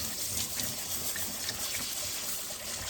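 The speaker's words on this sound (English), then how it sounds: "wash the rice until the water is clear" Running tap water splashes steadily over rice being rinsed in a sieve, with a soft hiss and light clatter as the grains are stirred underneath, fairly quiet and continuous.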